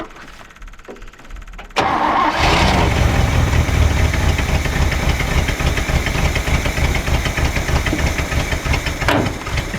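An old GMC truck engine, left sitting for about 30 years, cranks over and settles into a loud, steady, slightly rough idle after a carburetor idle adjustment, with hissing and rumbling running on continuously.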